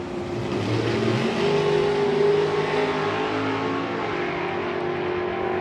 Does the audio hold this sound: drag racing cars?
yes